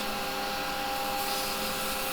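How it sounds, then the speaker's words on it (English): A steady, faint whirring hum with a soft abrasive hiss of sanding wood on a spinning lathe with the tool rest in place, continuing evenly throughout. "I am deliberately sanding this with the tool rest in place"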